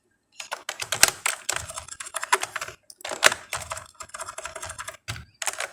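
Rapid, steady clatter of fingers typing HTML code on a computer keyboard, close and continuous with brief pauses between runs of keystrokes, with no voice over it.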